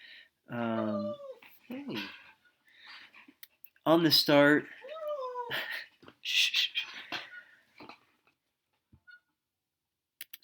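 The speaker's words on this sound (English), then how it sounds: "Excuse my dog crying in the background." A dog whimpers and cries with high, wavering whines in the background while someone talks nearby, the whimpers recurring several times between his words.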